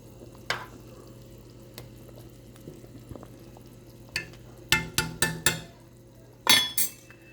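A spoon stirs minced garlic into a pot of Jamaican-style oxtails: a faint simmer underneath, then several sharp metallic clinks and scrapes against the pot, clustered near the end.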